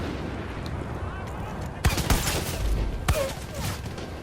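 Sniper fire in the video game Far Cry 5 rings out during an outpost fight, with a few sharp, loud gunshots under steady battle noise while someone talks over it.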